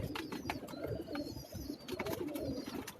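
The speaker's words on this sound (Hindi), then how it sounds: "जस आ गई जी इस कबूतर को देखकर" A pigeon on a rooftop loft gives soft, low, repeated coos in short rhythmic phrases, heard fairly close but quiet, with light background noise and no talking.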